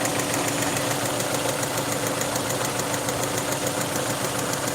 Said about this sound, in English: Since that noise has started coming, like ta ta ta ta ta ta.